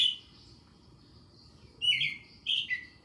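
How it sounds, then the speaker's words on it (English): Eastern American robin song comes in two or three quick caroling phrases after a quiet stretch, bright and moderately near against soft low-level ambient noise. "American robin."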